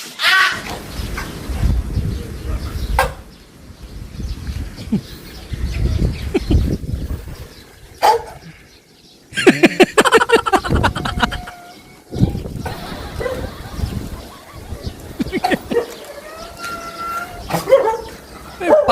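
A hoarse dog gives rough, raspy barks in scattered bursts, close and fairly loud, with people talking around it and some bird chirps in the background.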